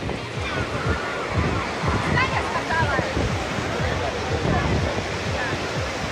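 Sea waves roll in continuously on a crowded shell-sand beach at Anapa, a loud, constant surf with periodic surges and wind buffeting the microphone, while voices are faintly heard.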